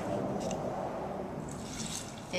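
Water poured from a cup into a dry, powdery mixture containing gravel, a steady soft trickling and splashing close by that fades near the end.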